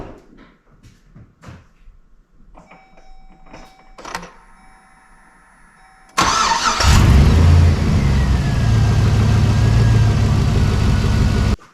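A 2003 GMC Sierra 4WD with a 4.8L V8 cranks and fires up after an oil change, settling into a loud, steady idle that drones on close by after quieter clanks and shuffling.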